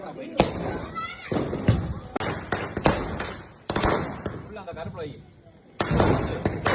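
Diwali firecrackers go off in a rapid series of sharp, loud bangs and thumps, close by and irregularly spaced, with voices talking between the blasts.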